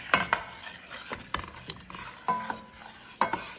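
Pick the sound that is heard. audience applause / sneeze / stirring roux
stirring roux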